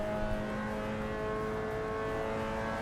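A Mazda MX-5 race car engine drones steadily in a sim racing game, holding a sustained tone throughout with no talking.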